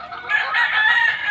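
A gamefowl rooster at a game farm crows in one sustained, loud, close call with no other sound.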